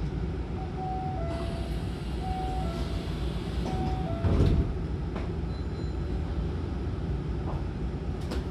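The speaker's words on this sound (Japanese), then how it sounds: "扉が閉まります。" Doors of a Hankyu Kobe Line train close over a steady rumble inside the carriage at a station stop, with a short louder thump midway and faint chimes and tones above.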